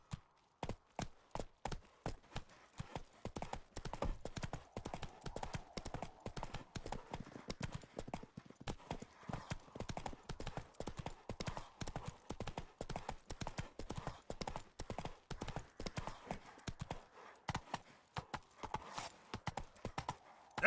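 Roach, a horse in The Witcher 3, gallops with a steady, rapid clip-clop of hooves that runs continuously and fairly close throughout, with no other prominent sounds.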